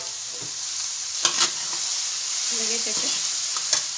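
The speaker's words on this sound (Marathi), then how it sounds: "सगळं आपण यात पुरण शिजवून घेऊया, याला चटका देऊन घेऊया" Sweet puran of cooked dal and sugar being stirred in a hot pan, a steady low sizzle with a few sharp spoon scrapes and clinks against the metal, a short spoken phrase over it.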